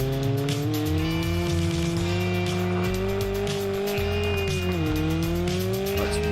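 A Nissan 200SX-style 200BX on a tuned drift setup in BeamNG.drive screams at high revs while its tires squeal continuously, the engine pitch rising and dipping as it slides through a steady, loud drift.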